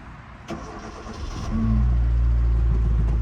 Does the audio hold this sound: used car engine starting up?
yes